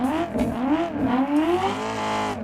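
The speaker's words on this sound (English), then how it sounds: "I think they got really good kind of exhaust notes for these cars, very distinct." A Swarm drift car in the Assetto Corsa racing game revs hard, its distinct exhaust note rising and dipping in wavering sweeps before climbing steadily higher, loud and close.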